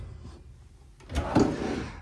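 A large drawer in a 2026 Keystone Sprinter 3980FBS RV slides open with a low rolling rumble and a soft thud at the end, close by, with no talking.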